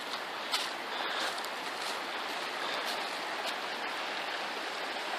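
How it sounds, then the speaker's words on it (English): Steady broadband rush of a sizable creek pouring down from a hillside in Trinity River country, constant and even with no talk, a continuous outdoor water wash. "Looks like it's a pretty good creek coming down from the other side."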